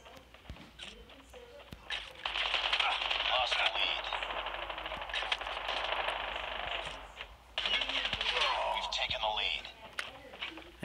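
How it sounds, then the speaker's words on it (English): Rapid bursts of automatic gunfire in the mobile shooter Call of Duty Mobile, sustained rattling volleys separated by short pauses, with a player talking over them. "I can literally just press the bullet button and point and shoot."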